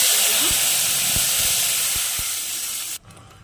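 A ground paste of tomato, onion and green chili hits hot oil in a pan and sizzles loudly in a steady hiss with a few pops, then drops off sharply near the end.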